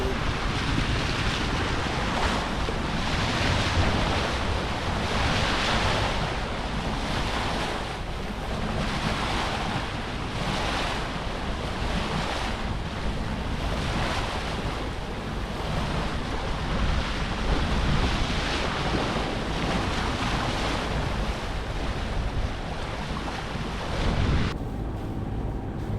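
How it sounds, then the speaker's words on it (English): A sailboat motor-sails with its mainsail up through waves and wind near Cape Elizabeth off Portland Harbor, Maine, giving a steady loud roar of surf, rushing water and wind buffeting the microphone throughout. "We are still motor sailing, not quite enough wind."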